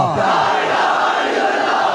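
A large crowd at a religious conference in Mian Channu roars back in unison to a slogan chant, a loud dense wall of massed voices sustained throughout, close and overwhelming.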